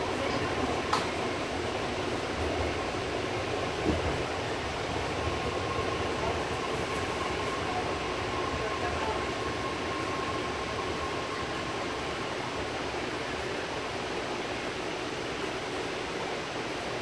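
Inside a BART Fleet of the Future car running between Fremont and Lake Merritt, a steady, loud rumble of wheels and track noise, with a faint high whine holding through the middle.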